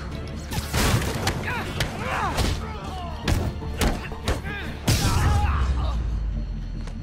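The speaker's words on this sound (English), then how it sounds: "Gotta smash the jammer." Repeated heavy thumps and smashing impacts in Spider-Man on PS4 as a jammer gets wrecked, irregular loud thuds mixed with whooshing effects and bursts of game noise.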